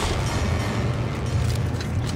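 Explosion in Dead Space 2 heard as a sustained low rumbling roar with broadband noise, loud and continuous throughout, with no talk over it.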